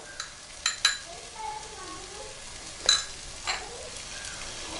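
Chicken with crushed black pepper and fennel powder sautés in a pan for a Kerala chicken roast, a low continuous sizzle broken by a few sharp clinks of a spoon against the pan as it is stirred.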